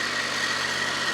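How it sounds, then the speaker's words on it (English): Tractor engine idling at a worksite: a steady, even mechanical hum with a faint high whine, heard at moderate distance with no other sounds over it. "Chris is playing with his tractor."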